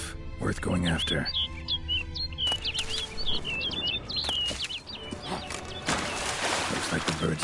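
Bird chirping in The Witcher 3: Blood and Wine, a rapid series of short, high tweets running through the first half over a busy game soundscape with water and ambient noise, fading behind other sounds later.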